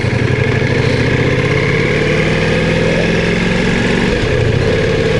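A Ducati Multistrada V4 S motorcycle engine runs steadily and loud throughout, a dense continuous mechanical drone with a faint shift in pitch near the end.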